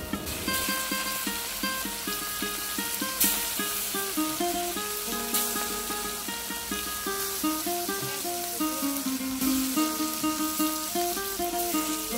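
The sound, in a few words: fish frying in oil with salt, turmeric, chili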